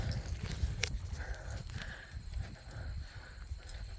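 Horse hooves shuffle and clop on a hard barn floor nearby, with faint snorts and rustling, and a quiet voice in the background, at a ranch.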